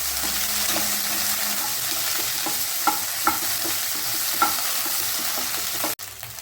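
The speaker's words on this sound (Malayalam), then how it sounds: "അത് നമുക്ക് നന്നായി ഒന്ന് വഴറ്റിയെടുക്കാം. വെണ്ടയ്ക്ക ആദ്യം" Okra sautés in a pan with a dense, continuous sizzle, near and fairly loud, with a few soft taps of stirring before the sound cuts off abruptly near the end; no one speaks.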